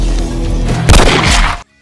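Loud bursts of gunfire crack through a dense, rumbling mix, with a sharp cluster of shots near the middle before everything cuts to silence.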